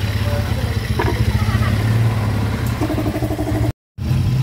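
A 200cc engine converted into a Euro150 motorcycle idles steadily and close by with a low, even pulsing throb, while people talk loudly over it.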